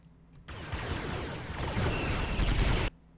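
Vehicle-mounted guns in a Star Wars: Galaxy at War mod battle fire a sustained, dense burst of rapid shots, loud and close, starting abruptly and cutting off sharply after a couple of seconds, with no talk.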